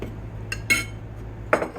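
Back of a metal spoon spreading butter over the tops of homemade pork chop biscuits, giving a few short scraping clinks against the pan, close and sparse over a low room hum, with no talk.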